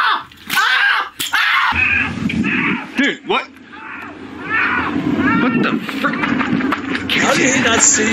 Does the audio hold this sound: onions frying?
no